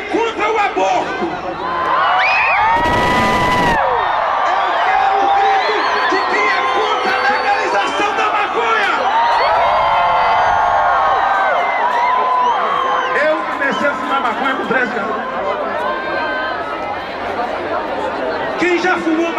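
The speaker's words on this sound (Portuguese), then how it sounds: "Eu vou pedir um grito de quem é contra o aborto." A large crowd at a Christian march in São Paulo shouts and cheers in loud, swelling waves, with whoops and bursts of chatter, while someone speaks over it.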